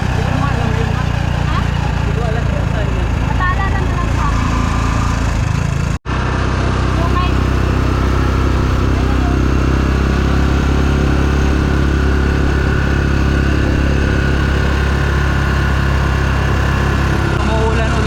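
A motorized tricycle engine runs in a steady, loud, close drone with a throbbing low hum that continues almost unbroken, with a brief cut near the middle.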